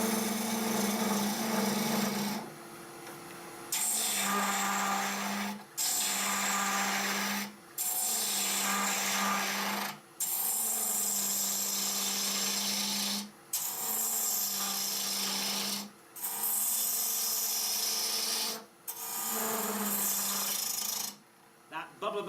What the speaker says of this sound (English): I can sand here, miss that bit, sand that bit